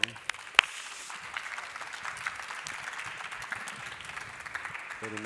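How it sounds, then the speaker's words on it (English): An audience at a closing keynote on innovation gives a round of applause, a faint, steady patter of many hands heard from a distance, with a couple of sharper knocks near the start. "Round of applause."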